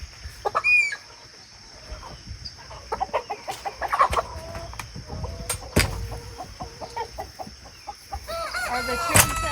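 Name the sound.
roosters crowing on a homestead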